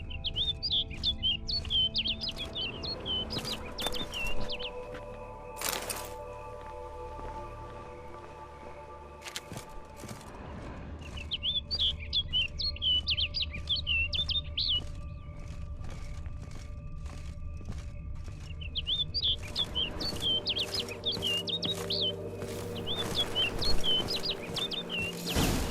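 Small bird chirping in The Witcher 3: Blood and Wine, quick repeated trilling calls in several bursts over a low ambient game hum, with occasional footsteps and thumps between them.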